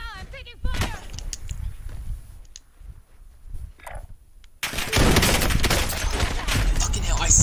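Rapid bursts of gunfire from a Warzone-style battle royale video game, loud and dense through the back half after a quieter stretch of scattered shots and clicks, with a player talking over it.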